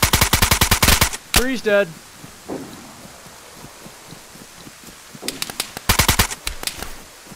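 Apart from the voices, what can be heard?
gunfire from another player in the video game DayZ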